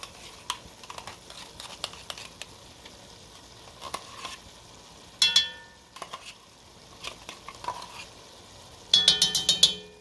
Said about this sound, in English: So now we're going to add the 2 cans, small cans of tomato paste.